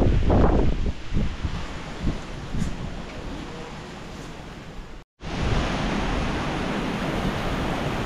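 Steady, broadband wind rushes across an open farm after a typhoon, its strong gusts loudest at the start before settling into a constant roar, broken by a brief dropout.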